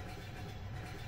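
A train running in a video game, a steady low rumble with a soft rhythmic rolling texture, continuous and moderately quiet, with no voices.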